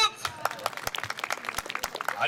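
Audience applause at a samurai warrior troupe's street show on a lucky-charm road, a dense patter of hand claps from a nearby crowd lasting throughout, with a voice speaking over it.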